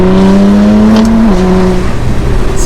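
Deep, loud exhaust drone of an R35 Nissan GT-R heard from inside the sound-deadened cabin, a steady bass-heavy tone that dips in pitch partway through as the revs change.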